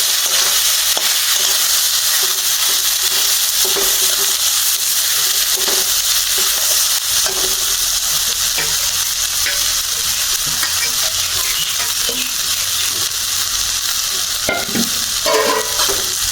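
Black cumin seeds frying in a pan for a village-style sola kochu dish, a loud, dense sizzle with occasional stirring scrapes running continuously, no talking.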